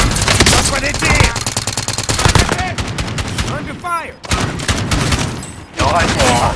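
Rapid automatic gunfire in Call of Duty Warzone, with dense bursts of loud, close shots crackling in quick succession, broken by short pauses and mixed with game voice callouts.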